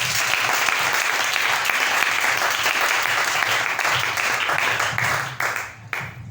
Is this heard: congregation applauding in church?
yes